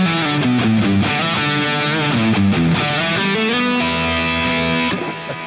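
Electric guitar playing a sustained, harmonically rich lead line through a smooth lead preset, with bends and held notes that ring loud and close with effects, then fade at the end.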